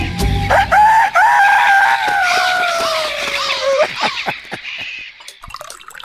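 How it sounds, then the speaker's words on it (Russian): A rooster crows loudly and close by in a long drawn-out call, followed by a few short clucks and scattered clicks as the sound fades. "А петух огород стережет."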